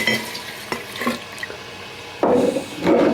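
Corn moonshine is poured into a mixing jar in short splashing bursts, with a few light clinks beforehand and then two louder gushes of liquid streaming in near and close.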